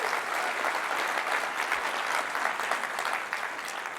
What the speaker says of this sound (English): One last round of applause for Jody and the entire demo crew.